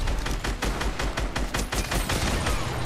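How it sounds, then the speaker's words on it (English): Rapid bursts of shotgun fire from the Fortnite video game ring out in quick succession, loud, sharp and repeated, with no talk over them. "Ah, shotguns."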